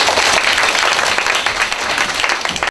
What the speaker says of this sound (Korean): 잘 지켜봐 주시고 박수도 많이 쳐주십시오